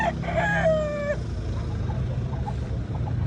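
Rooster crowing once near the start, a rising-then-held call lasting about a second, at a chicken expo in Carbon Public Market, Cebu City, over a dense, steady crowd and market din.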